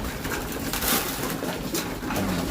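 Pigeons coo in soft, low, rolling calls against a steady wash of outdoor background noise, close and continuous for a few seconds.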